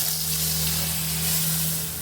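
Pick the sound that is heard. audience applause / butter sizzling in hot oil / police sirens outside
butter sizzling in hot oil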